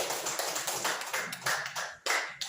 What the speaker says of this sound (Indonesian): Kita tepuk tangan untuk teman bertiga.